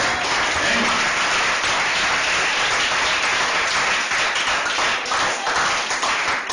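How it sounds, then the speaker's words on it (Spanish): A church congregation gives a loud, close round of applause during a sermon, dense clapping sustained evenly throughout. "Démosle un aplauso"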